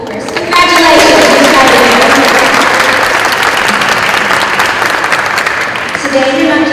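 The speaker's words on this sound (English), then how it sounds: "yeah, you guys can clap, of course" An audience at a high school signing ceremony for graduating students breaks into loud, sustained applause that swells quickly and holds steady, then tapers slightly near the end as a voice returns.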